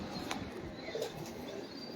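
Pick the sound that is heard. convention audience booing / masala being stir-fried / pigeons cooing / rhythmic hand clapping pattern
pigeons cooing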